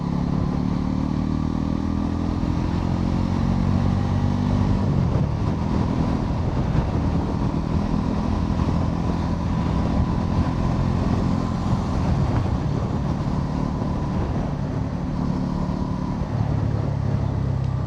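A 2025 Bajaj Pulsar NS 400Z motorcycle accelerates on a test ride, a loud, close engine drone rising through the revs with wind rush and road rumble, no talk.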